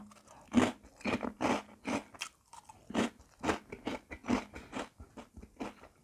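Calbee shrimp crackers, eaten alongside papaya salad, are crunched and chewed up close in a run of loud, crisp, rhythmic bites with short pauses between them.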